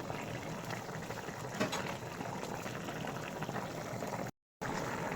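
Chapila fish curry with red amaranth stems simmering in a pot, a steady close bubbling boil that continues evenly throughout with no one talking.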